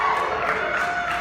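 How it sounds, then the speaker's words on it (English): Stadium crowd cheering at a baseball playoff game, a dense, steady roar of many voices held at an even, loud level without a break. "You're cheering a little too much."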